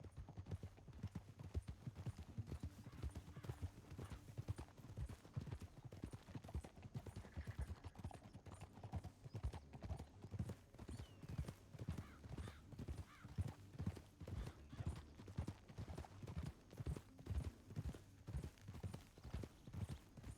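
Steady rhythmic clip-clop of horse hooves trotting throughout in Red Dead Redemption 2, fairly close, with a faint low rumble beneath and no talking.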